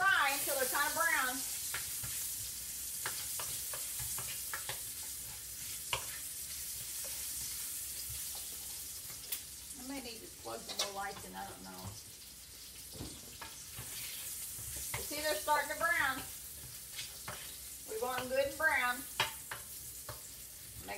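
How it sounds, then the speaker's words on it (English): Hot dogs fry in a pan with a steady soft sizzle and occasional stirring, a speaking voice heard now and then over the frying. "just let these fry until they're kind of brown"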